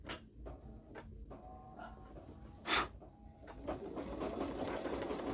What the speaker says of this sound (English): I'm ready to stitch the stars